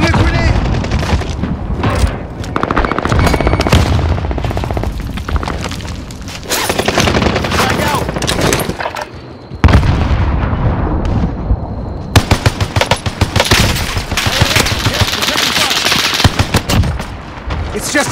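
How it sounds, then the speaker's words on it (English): In Warzone on Rebirth Island, dense M1918 BAR and Thompson gunfire rattles loud and near, broken by heavy booms as a thrown grenade goes off, with a brief lull partway before the firing resumes and voices shout over the battle. "Throwing a grenade!"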